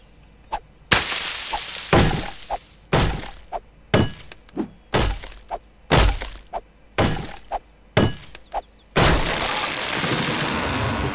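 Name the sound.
fire axe hitting and breaking things in 7 Days To Die video game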